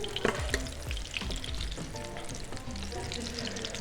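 Pear pieces frying in a hot pan in a two-Michelin-star kitchen, giving a steady close sizzle with soft crackles and a few clinks of stirring.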